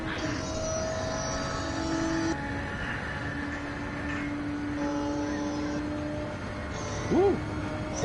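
Loud racing car engine in Gran Turismo 7 during practice at the Daytona Road Course, a steady droning roar with sustained tonal whine that shifts pitch in steps, then a brief rising burst near the end.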